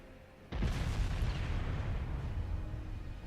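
Warship guns firing in the Ultimate Admiral Dreadnoughts naval game, a sudden heavy boom followed by a long rumbling roar that slowly fades, fairly distant and alone without talk.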